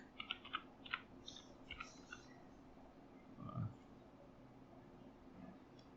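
Quiet keyboard typing, a few quick clusters of light key clicks followed by a soft thump, close to the microphone.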